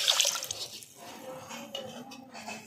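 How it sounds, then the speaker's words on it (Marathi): Water is poured over sugar in a pan to make sugar syrup for kala jamun, giving a short, close splashing pour that trickles off into drips. "1 बाऊल साखर व 1 बाऊल पाणी घालायचं आहे"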